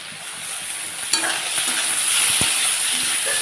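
Pointed gourd frying with onion and garlic in a pan, stirred as it browns: a dense, steady sizzle with occasional scraping strokes and a sharp clack, close and fairly loud with no voices.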